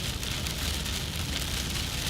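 Steady, dense rain falls during a storm chase in a Nebraska severe weather outbreak, a loud continuous hiss of drops drumming on a surface with no break.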